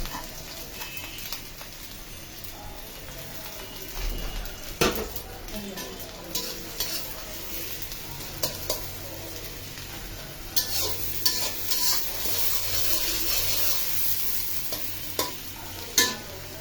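Chopped raw onions frying in oil for bhuna khichuri, a soft continuous sizzle with intermittent stirring and scraping of a spoon in the pot, growing busier toward the end.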